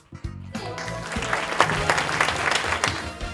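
Audience applause at an outdoor stage show, bursting in after a brief pause and then holding as a dense, lively round of clapping with scattered sharper claps throughout.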